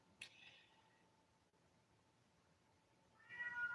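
A pet cat meows faintly in the background of a quiet indoor room, one short call near the start and another soft, drawn-out meow at the end, with near silence between.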